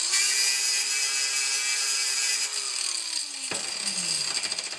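A power tool strips paint from metal ahead of welding. A loud, steady, high whine runs the whole way with a falling hum underneath, then dips and winds down near the end, close up with no talking.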